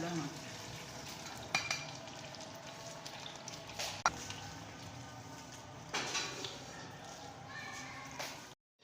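Masala of red chili, turmeric, tomato and ginger frying in ghee, giving a continuous close sizzle and spatter with occasional stirring clacks from the pan.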